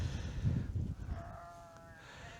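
Sheep bleating in sun-browned fields in Radnor, Wales, a couple of nearby bleats, the first low and gruff, the second longer and wavering, heard alone over quiet countryside.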